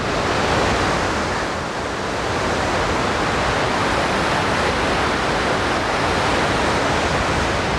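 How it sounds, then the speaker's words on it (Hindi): Waterfall along the Kedarnath trekking route in the Himalayas, a steady broad roar of rushing water that fills the scene evenly from start to finish. "और ये प्यारे प्यारे झरने।"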